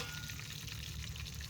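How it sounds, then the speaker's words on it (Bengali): River fish fry in plenty of hot oil over a clay stove, giving a steady, close, dense sizzle that holds evenly for a brief moment with no talk. "মাছ সব ভাজা হয়ে গেছে, মাছ ভাজা তেলে অল্প আলু ভেজে নেবো।"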